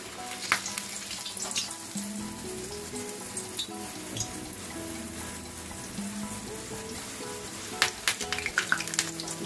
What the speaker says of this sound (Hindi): हमने ऑयल को गरम कर दिया है। अब एक एक पत्ते को लेके